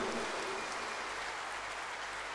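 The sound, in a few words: audience applause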